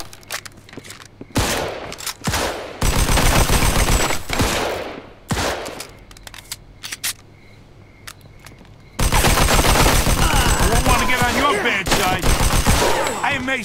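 Loud, close gunfire in the video game Mafia 2: single shots, then long sustained bursts of automatic fire, a break with scattered shots, and a final extended barrage.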